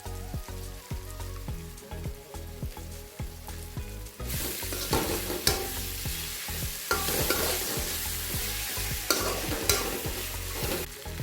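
Chowmein with green chili sauce fries in a hot pan, its steady sizzle under rapid, rhythmic scraping and tossing strokes. Partway through, the sizzle flares louder and brighter and stays close and busy with no voices.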